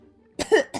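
A couple of close, sharp coughs after a brief quiet moment, the second cough following quickly on the first.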